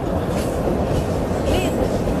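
A train travels along a Brazilian railway, heard from on board as a steady loud low rumble and rolling wheel noise with a brief faint squeal, and no clear voices.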